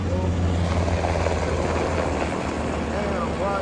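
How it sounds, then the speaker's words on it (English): Helicopters fly overhead, a dense, continuous rotor and engine roar that stays loud and steady throughout, with no pauses. "So these choppers, they're at a reasonable speed"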